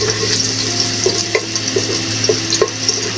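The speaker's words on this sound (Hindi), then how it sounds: "लहसुन सौते हो चुका है।" Garlic sautés in a pan, a loud, close, continuous sizzle with periodic scraping clinks of a utensil stirring, no voices.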